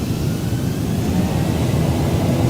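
A Lion Air jet spools up to takeoff thrust on runway 21, a dense, loud, continuous engine roar heard from inside the aircraft without any talk.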